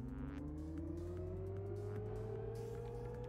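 A race car engine in a racing video game drones steadily under acceleration, its pitch climbing smoothly over a few seconds, carried at a low, even level.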